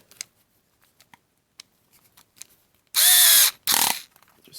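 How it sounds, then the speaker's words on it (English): A power drill drives screws into the plastic case of a Milwaukee M18 XC5.0 extended-capacity battery, in two loud, close bursts of whirring of about half a second each after quiet handling noises, with no talking. "then you can run your screws in"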